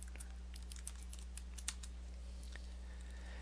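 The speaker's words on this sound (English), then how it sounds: "We'll type that in." Keys on a computer keyboard are tapped in a quick, light, uneven run as a search word is typed into OneNote 2013, soft and close over a low steady hum, with no talk.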